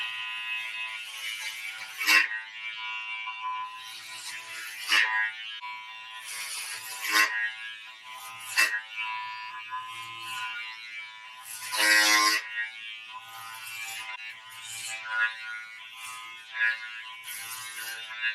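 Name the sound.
electric hair clippers with number 3 guard shaving hair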